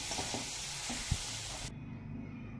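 Modak filling with cardamom powder and grated nutmeg being mixed in a pan, a steady close hiss and sizzle with a soft stirring knock, the sound thinning partway through.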